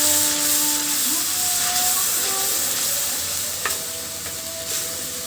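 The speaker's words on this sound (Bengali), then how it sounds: "মশলাটা খুব সুন্দর করে কষিয়ে নিব।" Spice paste for beef curry sizzling and being stirred in a hot pan, a steady close frying hiss with scraping stir sounds, while a call to prayer plays faintly in the background.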